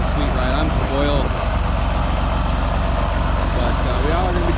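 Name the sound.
John Deere tractor engine running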